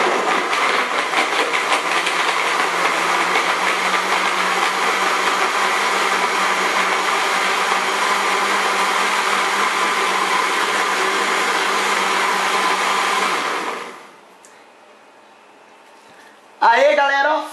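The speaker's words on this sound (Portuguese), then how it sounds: "Vou ligar aqui o liquidificador." A kitchen blender runs at a steady, loud whir for about thirteen seconds, then cuts off abruptly, leaving near silence before a brief burst of noise at the end.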